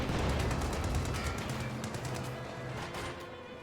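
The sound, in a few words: heavy machine gun firing in Company of Heroes 2 video game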